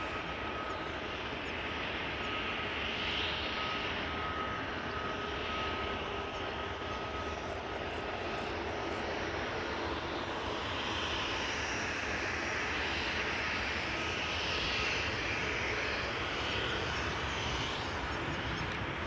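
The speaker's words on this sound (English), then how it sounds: "(737-700) arrived from Geneva, KLM flight 1926." A KLM Boeing 737-700 arriving from Geneva at Amsterdam Schiphol makes a steady, moderately distant jet engine roar with a broad whooshing rumble that swells gently and stays constant.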